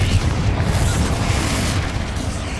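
A Confringo fire spell blast in Hogwarts Legacy, a dense, sustained booming roar with heavy low rumble that holds steady and loud for the whole stretch, with no talk over it.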